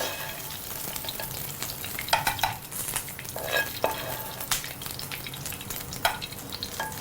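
Chicken and vegetables stirred in a frying pan over a constant sizzle, with scattered utensil scrapes and clinks against the pan, close and moderately loud, no talking.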